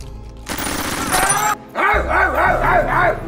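A man forced at gunpoint to bark like a dog, a human voice imitating a dog with a run of yelping, whimpering barks and whines, loud and close, over a dense noisy background.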